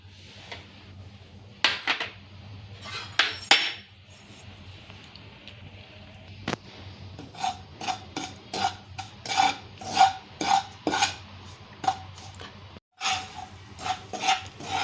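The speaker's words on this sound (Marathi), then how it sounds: "आता त्यामध्ये मी प्रथम रवा भाजून घेते" Semolina roasting in ghee in a pan: an uneven series of close scraping and rubbing strokes as a spoon stirs and drags the grains around the metal, with a few sharper knocks mixed in.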